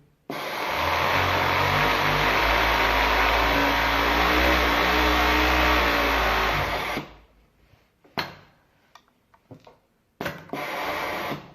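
Sewing machine running on a pedal while stitching a channel hem, a loud continuous motor whir for about seven seconds, then stopping, with a few short bursts and a brief restart.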